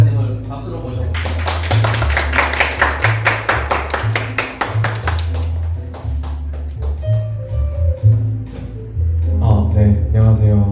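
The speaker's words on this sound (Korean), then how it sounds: "저희 승재 작가님을 박수로 모셔볼게요." A small salon audience in Korea claps to welcome a writer, with brisk, fairly close hand claps over a low background hum that fade as a voice starts talking.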